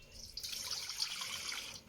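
Water pouring steadily into a big bowl while mixing focaccia dough, a continuous close splashing stream that lasts about two seconds.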